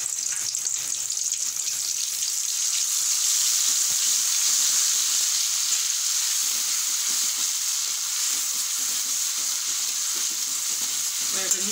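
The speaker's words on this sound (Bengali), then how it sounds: "সর্ষের তেল আর সয়াবিন তেল একসাথে দিয়ে দিয়েছি, তেজপাতা ফোড়ন দিলাম, অল্প একটু সর্ষে বাটা দিয়ে দিলাম" Bay leaves and mustard paste fry in hot mustard and soybean oil, giving a dense, even hiss that stays loud and constant, with no voices.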